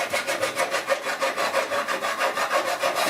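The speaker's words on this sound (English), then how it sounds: "This file really lets you get the edges straight." A hand file dressing the edges of a fabricated steel patch panel for a 1969 C10 core support repair, heard as steady, evenly spaced rasping strokes, close and loud, continuing throughout.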